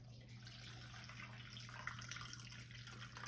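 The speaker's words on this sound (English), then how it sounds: "I'm pouring in the water." Water poured from a container into another container, a steady low splashing pour running continuously at moderate level with a faint background hum, no talking.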